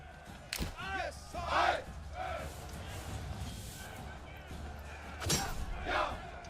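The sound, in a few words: soldiers cheering during battle in video game Manor Lords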